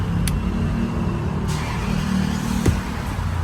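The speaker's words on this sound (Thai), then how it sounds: "เครื่องยนต์ก็จะสตาร์ทติดครับ" A Lexus LX470's engine turns over and settles into a low, steady rumble after a push-button start, heard up close with a couple of faint clicks and a short thump.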